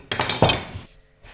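Leeks cooking in a pan over low heat are stirred with a utensil, giving a brief burst of close scraping and clinking against the pan before it fades.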